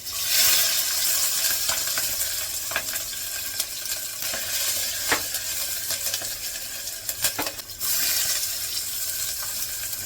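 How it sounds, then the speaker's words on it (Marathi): Crushed garlic and green chili going into hot oil in a home kitchen pan, giving a bright, steady sizzle with a few stirring scrapes and clinks over it. "आता पहिलं लसूण टाकते"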